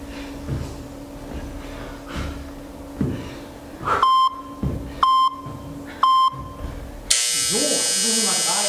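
A workout timer gives three evenly spaced, sharp electronic beeps about a second apart, followed by a louder buzzing tone, while a person talks over it during a home ab-training session.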